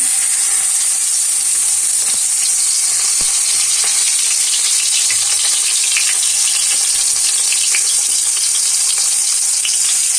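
A large fish head frying in hot oil, a constant loud sizzle and crackle with occasional clicks of stirring, and nobody speaking.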